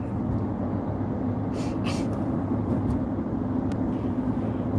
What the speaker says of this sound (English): Man, there's a lot of traffic going back.